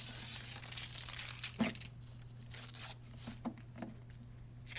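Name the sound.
peeling protective plastic off a printer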